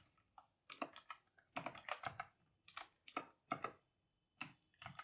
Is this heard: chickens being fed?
no